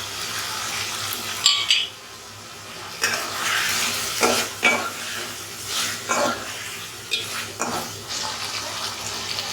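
Chopped tomatoes going into potatoes frying in a pan in a small kitchen, with a soft sizzle beneath irregular bursts of wet scraping and stirring close by.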